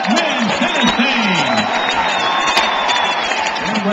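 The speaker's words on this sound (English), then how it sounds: "Let's give a big round of applause" A crowd cheers and applauds for the 2009 SEC champion Ole Miss team at a college football awards event, a loud continuous roar of clapping and whoops with voices mixed in.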